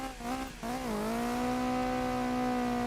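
A small K car's engine revs hard and steady in the BeamNG driving game, its harmonic whine dipping briefly then holding a strained, high, buzzing drone, close and loud with no voices.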